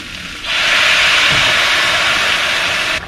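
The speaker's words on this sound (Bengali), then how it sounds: "এবার এর মধ্যে এই ফুটন্ত গরম জল অ্যাড করে দিচ্ছি।" Boiling hot water is poured into a pot of jackfruit and prawn curry, giving a loud, steady hiss and sizzle that lasts about two and a half seconds before cutting off.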